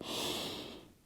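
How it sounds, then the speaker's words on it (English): A single deep breath during a yoga pose, a close airy exhale that fades out within a second. "Take a deep breath here."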